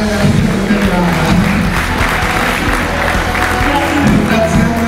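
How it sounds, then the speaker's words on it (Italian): Audience applause at a beauty pageant, a dense, steady patter of many hands clapping at close range, with crowd voices and a speaking voice mixed in underneath. "Ringraziando Irene, io farei un grandissimo applauso perché è stata veramente brava."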